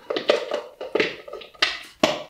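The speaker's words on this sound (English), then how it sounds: "Now we've got to shove the filter in here firmly." A Brita filter cartridge is shoved firmly into its plastic jug, producing a series of sharp close-up knocks and clicks, roughly six distinct thuds at an uneven pace with scraping between them, no talking.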